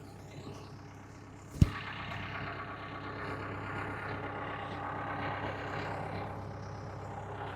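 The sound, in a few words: tractor engine running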